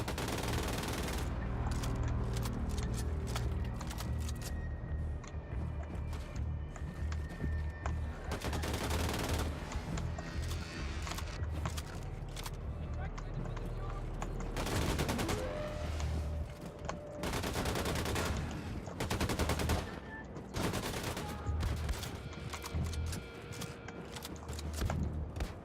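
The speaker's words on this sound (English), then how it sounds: "Someone's shooting me with a little pea shooter, and I can't seem to figure out who." Gunfire in the first-person shooter Wolfenstein 2: The New Colossus, dense and continuous, with repeated loud bursts and volleys running throughout over a busy game soundscape, no talking.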